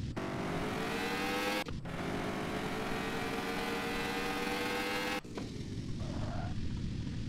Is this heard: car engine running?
yes